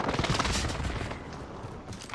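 Modern military gunfire in a first-person shooter, a dense rattle of rapid shots close by, loud at first and thinning slightly toward the end.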